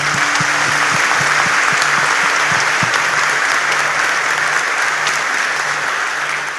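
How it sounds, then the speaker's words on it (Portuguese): A standing Catholic congregation at Sunday Mass gives warm applause to new lectors. Dense, loud clapping fills the church in a sustained roar, with a low rhythmic thumping pulse running beneath it. "uma salva de palmas para os novos leitores"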